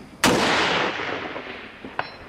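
A single sharp gunshot cracks at an outdoor shooting range and echoes away, followed by a fainter second report near the end, loud and close with no talking.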